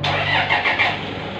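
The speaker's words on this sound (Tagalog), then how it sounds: "Remote auto start." A Toyota Fortuner engine cranks and catches via a Scuta car alarm remote start, a short close burst of starter whir with a few pulses, then settling toward idle.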